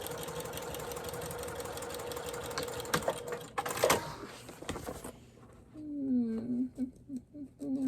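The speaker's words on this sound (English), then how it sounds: "And back stitch over that center seam." A sewing machine with a walking foot runs a steady, close mechanical whir for about five seconds while back stitching over the center seam of a zippered makeup bag, then stops, and a voice speaks briefly afterward.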